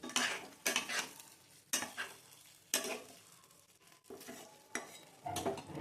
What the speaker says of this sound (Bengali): জল দিয়ে মিশিয়ে রাখা কর্নফ্লাওয়ারটা দিয়ে সমস্তটাকে মিক্স করে দেবেন